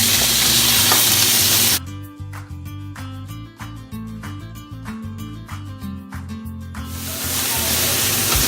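Meat browns in a hot pan with a loud, broad sizzling hiss that gives way to a stretch of clattering, stirring clicks before the steady sizzle swells back.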